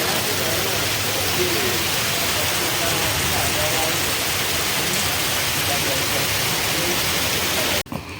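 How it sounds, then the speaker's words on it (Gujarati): A heavy rainstorm roars in a continuous, loud wash of falling water that stays even throughout, then cuts off abruptly near the end. "ફૂલ વરસાદ ચાલુ થઈ"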